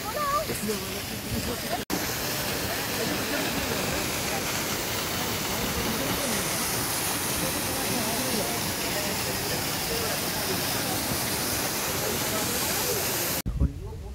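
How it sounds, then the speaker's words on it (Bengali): Water pours down at a roadside waterfall on the way to Yumthang, a dense, steady roar of rushing water heard up close with a brief voice near the start. "এইখানে জলটা পড়ছে"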